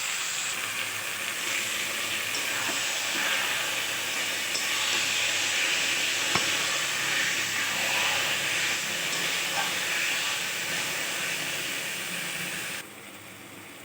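Boiled taro leaves hiss in a hot pan, a loud, even, close sizzle that holds steady before dropping away abruptly near the end.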